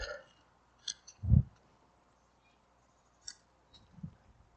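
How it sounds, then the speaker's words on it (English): Hand pruners snip off old dried flower heads from a PeeGee panicle hydrangea shrub in spring, giving a few faint, sparse clicks and crisp cuts scattered across a quiet outdoor background. "the first thing I'll do is just cut off all the flower heads."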